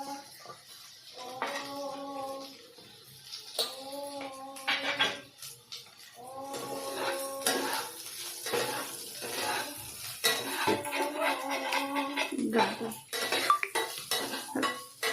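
Chopped onions fry in a pan for chilli paneer as a utensil scrapes and clinks against the metal in repeated stirring strokes over a soft sizzle, close and fairly loud.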